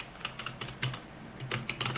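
Fingers tapping on a small computer keyboard, a quick irregular run of close, light clicks with short pauses between bursts.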